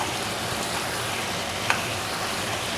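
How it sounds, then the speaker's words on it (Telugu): Ginger garlic paste frying in a pan, a steady close sizzle with a brief spoon knock against the pan partway through as it is stirred. "నేను అల్లం వెల్లుల్లి పేస్ట్ యాడ్ చేస్తున్నాను. ఇది యాడ్ చేసుకుని ఒక 2 నిమిషాలు తిప్పేసుకుని"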